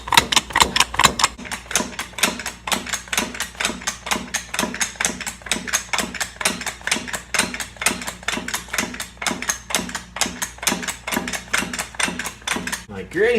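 Rapid, steady clanking strokes of a hand pump working a hydraulic puller to draw cylinder sleeves from a Perkins 152 engine in a Massey 231 tractor, repeating evenly and close up for the whole stretch.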